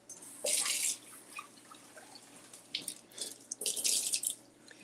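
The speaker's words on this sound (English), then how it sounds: "We're going to give them a quick rinse" Cherry tomatoes rinsed under running tap water in a kitchen sink, bursts of splashing flow that start and stop, with drips and light handling of the tomatoes between, close and moderate in volume.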